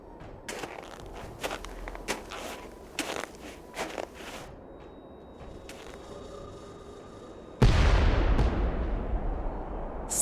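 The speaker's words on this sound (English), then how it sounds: "Sounded like an explosion." A sudden, loud boom erupts in a snowy Nancy Drew mystery game, following scattered footstep-like thumps and clicks, then a sustained, dense rumble that fills the rest of the moment.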